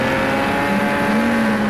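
A Ford Mustang race car roars through a lap of a racing video game at Ruapuna Park, a steady loud engine drone holding a sustained pitch throughout with no talk.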